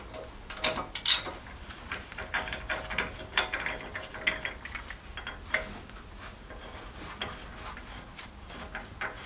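A ratchet with a deep socket and extension turns bolts during a Land Rover Discovery 2 wheel bearing swap, giving irregular bursts of close mechanical clicking separated by short pauses.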